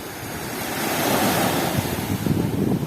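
Sea waves on clear Mediterranean water in Corsica, a continuous wash of surf swelling slightly louder partway through, mixed with wind rumble on the microphone.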